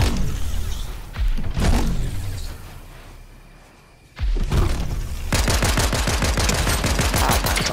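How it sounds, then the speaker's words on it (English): Rapid bursts of Fortnite gunfire fill the second half, a steady rattling volley of many close, loud shots after an earlier pair of sharp blasts and a quieter lull. "I just decided to shoot and apparently some shots."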